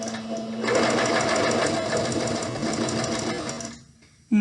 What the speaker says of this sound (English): I'm going to just sew a straight seam down, making sure that I backstitch at the beginning and at the end